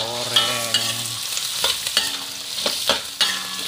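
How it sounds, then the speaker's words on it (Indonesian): Squid sizzles in a pan for cumi sambal ijo, with a steady frying hiss broken by the sharp scrapes and clacks of stirring, fairly close and loud with no voices. "Oke guys, cuminya kita goreng"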